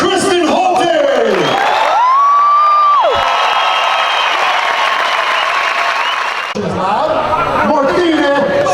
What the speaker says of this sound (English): give a big round of applause to Kristen Holte!